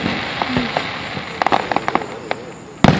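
Fireworks burst at a Fourth of July show, a sparse scattering of sharp cracks and pops building into a quicker cluster before one loud final bang, heard fairly close with crowd noise in the background.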